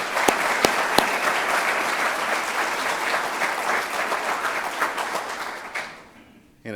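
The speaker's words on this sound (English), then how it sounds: "Once again, let's give a big round of applause for the deputy and his wife and his children." At a retirement ceremony, a crowd claps for a retiring deputy and his family in loud, steady applause with a few sharp individual claps near the start, tapering off and fading out just before the end.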